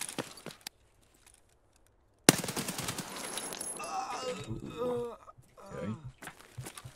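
AK-104 rifle fire in the video game Escape From Tarkov, heard as a sudden loud burst of sharp shots after a near-silent stretch. The shots roll into a dense stretch of rapid cracks and clatter, close and harsh.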